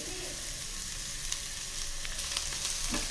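Onions and green chillies fry in oil with a dense, continuous sizzle at close range, with light stirring noises scattered through it.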